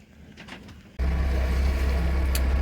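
A sailboat's engine kicks in abruptly and runs as a steady low drone while motor sailing against the wind, close and continuous after a quieter stretch of wind and water.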